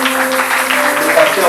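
A church congregation applauds and cheers at the end of a worship service, with a short, loud burst of clapping under a sustained tone.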